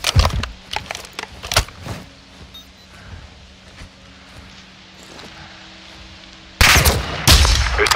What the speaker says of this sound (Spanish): dales tiros a la cabeza con tu fusil de precisión con silenciador